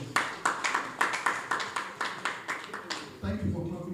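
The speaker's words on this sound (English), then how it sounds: "Thank you for clapping for me." A small group claps in a steady, even rhythm for about three seconds, then a voice starts speaking as the clapping stops.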